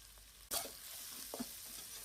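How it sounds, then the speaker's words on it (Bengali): Onions and garlic dropped into a hot pan burst into a loud sizzle about half a second in, then keep frying with a steady crackle and a few soft stirring scrapes. "আর দিয়ে দিচ্ছি পেঁয়াজ এবং রসুনগুলো।"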